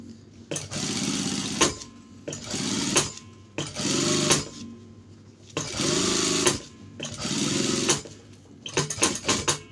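A sewing machine stitches a shirt collar in repeated bursts of rapid mechanical whirring, each lasting a second or two and separated by short pauses, with a flurry of quick short runs at the end, close and alone.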